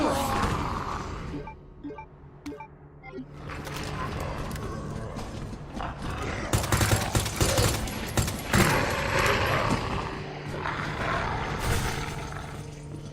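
Repeated gunshots in the Resident Evil 2 Remake horde mode, firing into a group of zombies. The shots come as sharp cracks over a dense, noisy game soundscape, and a voice talks through part of it.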